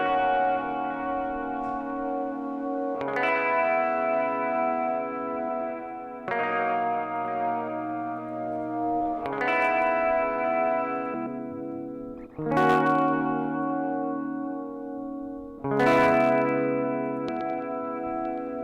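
Music or an instrumental passage processed through the T-RackS 5 Space Delay plugin, sustained tones in repeating phrases with echoing repeats and a reverberant wash, playing steadily throughout with no talk.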